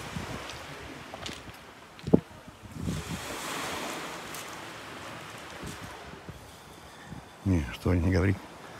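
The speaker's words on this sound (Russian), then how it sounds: "Море, вот оно, Море рядом." Sea waves wash onto a beach on the embankment at Alushta, Crimea, a steady broadband surf wash with some wind, joined near the end by a few bursts of nearby speech.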